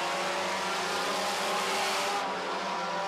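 Four-cylinder stock cars race on a track. Loud engines roar together in a continuous close pack with a steady, droning intensity and no break.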